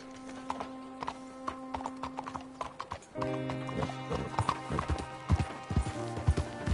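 Steady clip-clop of horse hooves trotting close by in Red Dead Redemption 2, with a whinny and a rising, busier layer of hoofbeats and rumble in the second half.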